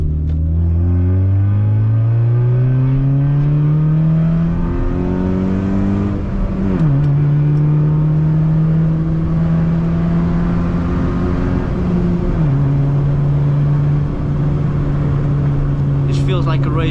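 A loud Hyundai Tiburon pulls hard from second gear, its engine note climbing steadily and dropping at each of two upshifts before rising again, close and droning throughout without pause.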